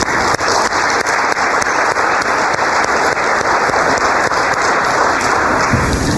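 Sustained, loud audience applause fills a hall at a centennial birthday celebration, a dense steady wash of many hands clapping together for honorees for several seconds before easing slightly at the end.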